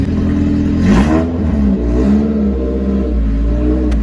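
An Owner type jeep under full restoration revs through its newly installed exhaust, loud and close, with rising and falling engine surges, a rough mechanical idle between them and a brief clatter near the end.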